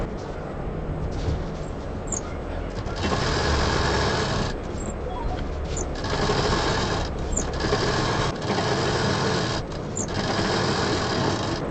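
A sewing machine stitches fabric pieces with lining for a box organizer, running loud and steady in long bursts with brief pauses between seams.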